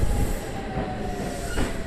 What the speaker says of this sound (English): The suburban express train bound for Kashihara-Jingu-mae is arriving at Furuchi Station.